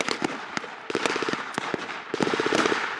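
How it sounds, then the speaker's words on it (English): Blank rounds from a machine gun at a battle reenactment on a farm, sharp bangs in irregular bursts and single shots, loud and fairly close, with scattered louder cracks over a busy outdoor background. "There's an MG on the right flank!"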